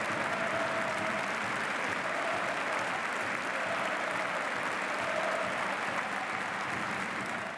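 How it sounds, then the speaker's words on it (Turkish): A stadium crowd at a Caen versus Nantes league football match applauds in a minute-long tribute, a dense, even wall of clapping that stays loud and constant from start to finish. "Mücadele öncesi Emiliano Sala bir dakika boyunca alkışlarla anıldı."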